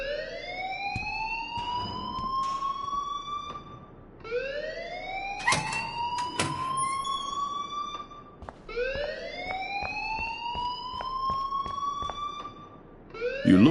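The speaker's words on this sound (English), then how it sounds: "please turn off that alarm since that's your job" An alarm rings inside the video game Life Is Strange, repeating rising electronic sweeps about every four seconds, loud and unbroken, with no talking over it.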